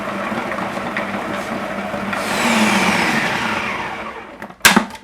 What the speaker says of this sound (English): I like the food processor because I like the consistency that the seasoning is chopped into